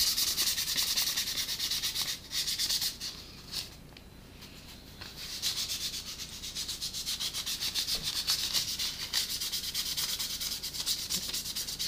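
Metal being polished by hand with Autosol polish and newspaper, a steady close rubbing and scrubbing texture that runs almost continuously, with a brief lull partway through.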